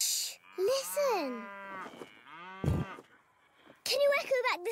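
A voice imitates cows with several drawn-out, wavering moos separated by short pauses, plus a brief thump in the middle.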